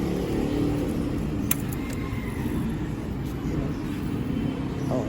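A Honda CB150X motorcycle engine runs through a JBT aftermarket muffler with a steady, close, throaty drone and rumble, holding fairly even with slight swells and no talk over it.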